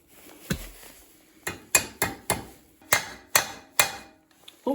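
Hammer blows drive a roll pin into a snowblower impeller, a string of about eight sharp metallic whacks in an irregular rhythm, close and fairly loud, with a quiet pause between the first hit and the rest.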